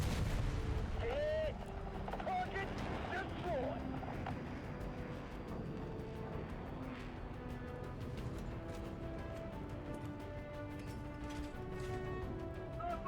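Tank cannon shots from a T54E2 in a video game, booming over a steady rumbling engine and battle ambience, with a person talking over it throughout.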